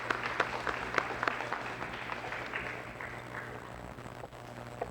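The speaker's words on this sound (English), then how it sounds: "we'll give him a round of applause anyway" An audience at a high school fine arts festival applauds steadily with dense, sustained clapping that slowly tapers off, a few sharper claps standing out near the front.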